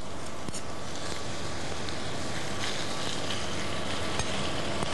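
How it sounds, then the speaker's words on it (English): Ackee and saltfish simmer in a pan with a constant, even sizzle and soft bubbling, close and steady throughout, without talking. "And then I'll let it simmer for just a few minutes."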